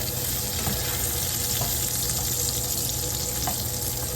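Bacon frying in a pan for a homemade weeknight dinner gives a steady, close sizzle and crackle with no talking.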